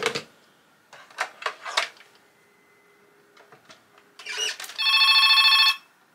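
A few clicks and clacks are followed by the electric bell of a vintage T65 telephone ringing once, a loud, rapid metallic trill about a second long, close up.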